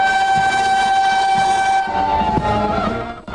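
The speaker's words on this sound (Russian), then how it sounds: "Украшенный лентами поезд, переполненный перрон и оркестр" A ribbon-decorated passenger train pulls into a crowded station platform, with a loud sustained horn tone over rumbling wheels and clanks that shift and fade as it slows.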